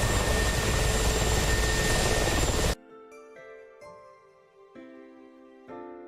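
An Mi-24 attack helicopter in a combat flight-simulator game makes a loud, dense rotor and turbine roar that cuts off abruptly partway through, leaving quiet tonal chimes and sparse interface sounds.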